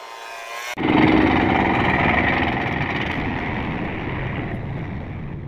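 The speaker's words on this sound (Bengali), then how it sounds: "তো দুইটা লঞ্চ এখন মুক্তাপুর সেতুর নিচ দিয়ে যাবে।" Passenger launch engines race on a river under a bridge, a loud, constant low rumble that kicks in suddenly and then holds steady with wind noise and a broad roar.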